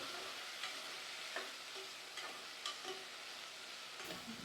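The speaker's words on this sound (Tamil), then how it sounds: "இப்போ நல்லா வதக்கலாங்க" Cowpeas and soaked beans sautéing in a pan, a steady soft sizzle broken by several sharp scrapes of a spoon stirring, fairly close and alone.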